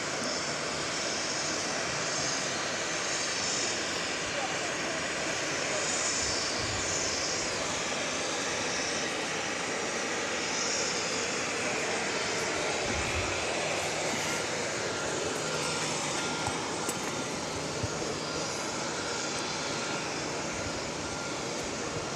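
A Southwest airliner takes off from runway 13 right at Dallas Love Field, making a broad, steady engine roar that stays loud and fairly close for over twenty seconds with no voices over it.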